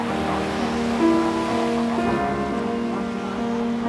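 Atlantic Ocean surf rolls steadily along the Namib Desert coast, with a continuous washing roar and wind. A voice talks over it.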